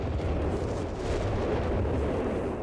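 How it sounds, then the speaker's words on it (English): A rifle grenade blast in Company of Heroes 3 during a chaotic battle against a German assault force, heard as a dense, sustained roar of explosive rumble and debris that stays loud throughout. "getting hit with a rifle grenade and quickly roasting there"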